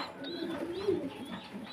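Pigeons at a pigeon farm give soft, rolling coos close by, a continuous low burbling murmur with no talk over it.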